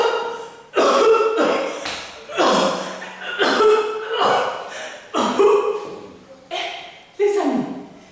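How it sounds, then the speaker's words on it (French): A woman coughs in a series of harsh, loud bursts, about eight fits spaced roughly a second apart, each with a wheezy tail. "La maman est en train de tousser."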